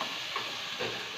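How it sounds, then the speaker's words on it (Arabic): Rice and spices, including black pepper, stirred in a hot pan, a soft continuous sizzle and hiss with a couple of faint scrapes, brief and quiet. "واقلب لغايه اما الرز يتشرب البهارات بتاعتي"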